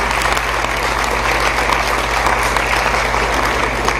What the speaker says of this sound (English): let's welcome our judge and give him a round of applause